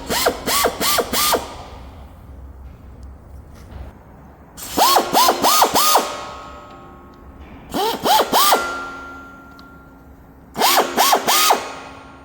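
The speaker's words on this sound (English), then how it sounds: "I'm just going to chamfer all of the grease ports using a 90-degree air drill with a countersinking bit." Short bursts of a whining, ratcheting 90-degree air drill with a countersinking bit chamfering grease ports in a D11 dozer equalizer bar, repeated four times with quiet gaps between each burst.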